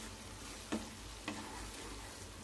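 Tomato curry stirred in a pan over a flame, a soft steady sizzle with two brief scraping strokes of the spoon, close and quiet.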